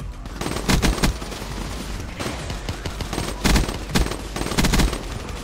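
Rapid automatic gunfire from a weapon in the video game Call of Duty, loud and close, with sustained bursts and brief pauses between strings of shots; no talking.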